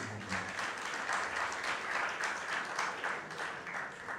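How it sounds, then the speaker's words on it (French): An audience at an anti-corruption awareness campaign for students applauds the director general of the ULCC, a steady, even wash of many hands clapping, moderately distant and continuous throughout. "Applaudissez le directeur général de l'ULCC."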